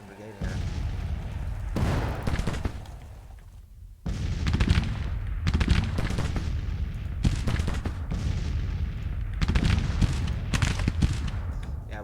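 Civil War gunfire and artillery in the strategy game Grand Tactician: The Civil War: repeated booming volleys and crackling rifle fire roll in heavy bursts every second or so, with a voice talking over the battle.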